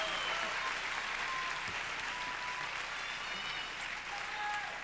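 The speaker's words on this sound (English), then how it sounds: "Let's have a round of applause for all of our parade of contestants." Audience applause at the Miss California USA 1994 pageant, a dense, steady wash of clapping from a large crowd that holds at a constant level throughout, with faint tonal sounds underneath.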